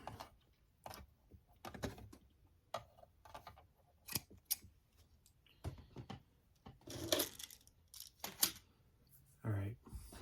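Scissors snip thread on a sewing project in a series of quiet, crisp cuts scattered irregularly amid faint handling clicks, recorded close in a quiet room.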